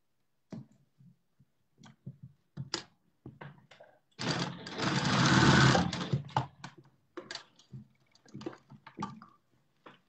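A sewing machine stitching fabric during a sewing lesson, a burst of steady mechanical whirring lasting about two seconds in the middle, surrounded by short clicks and handling taps.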